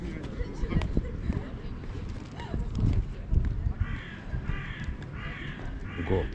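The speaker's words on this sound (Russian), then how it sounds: "Вороны, вороны." Crows caw repeatedly from a distance on the Yalta seafront in Crimea, several harsh calls standing out late in the clip over steady outdoor noise, with people talking throughout.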